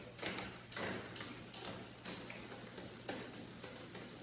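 Close mechanical clicking and ratcheting from the gears of a 2001 Specialized RockHopper mountain bike, a quick series of ticks and taps as the drivetrain turns and shifts.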